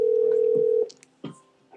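A telephone rings with one long steady tone before a restaurant call is picked up, then it stops, followed by short clicks and handling noises of the receiver being lifted.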